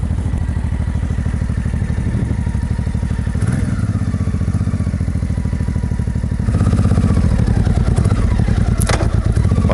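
A motorcycle engine warming up at a roadside stop during a trip from Spain into France, a steady close idle with clattering and thumps, the rumble growing slightly louder partway through.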